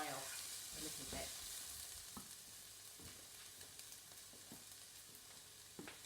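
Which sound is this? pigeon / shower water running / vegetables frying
vegetables frying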